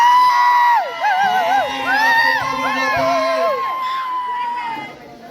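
A crowd at a Navratri festival games event cheers and whoops for a competition winner, with children shouting over lively background chatter and a few sung or called-out voices.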